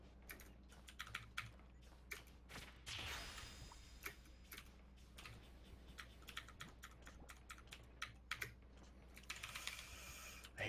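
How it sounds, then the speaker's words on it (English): Rapid, loud clicking keystrokes on a mechanical keyboard with blue switches, dense bursts of typing with brief pauses and a louder clatter near the start, close to the microphone. "my keyboard is, I've got blues, so it's pretty loud"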